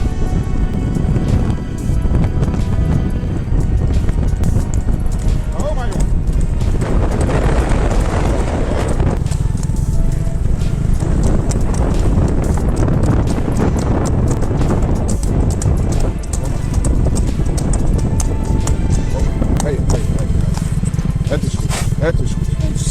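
A runaway horse clip-clops along a road, its hooves pounding in a steady rhythm under heavy wind rush and engine noise from a scooter riding alongside, with voices heard at times.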